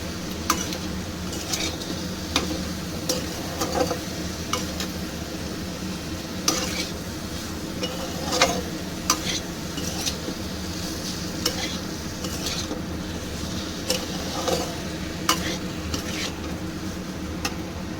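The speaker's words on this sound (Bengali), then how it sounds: "মশলা দিয়ে একটু ভালো করে কষিয়ে নিয়েছি।" Prawns sauté with spices in a pan for a ridge gourd and potato dish, a steady low sizzle broken by regular sharp scraping and clacking stirring strokes, close and without talk.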